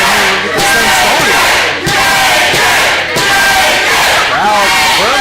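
Wrestling crowd at a ProSouth event roaring and chanting loudly and continuously, dense massed voices with rhythmic swells, heard up close.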